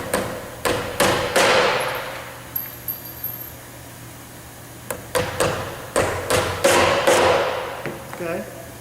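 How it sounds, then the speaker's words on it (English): A hammer drives nails through a conveyor belt into a wooden board in bursts of sharp, close metallic strikes, each run of blows speeding up, with short pauses between sets. "then you nail it to a board"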